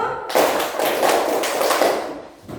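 A classroom group claps hands together in a counted rhythm exercise, producing a dense run of sharp, close, fairly loud claps that rise after a short quiet start.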